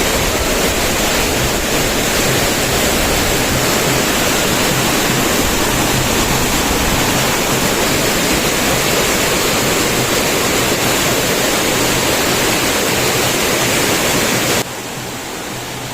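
Ranmudu Ella waterfall roars with a loud, constant rush of falling water, a dense unbroken wash that dips slightly right at the end.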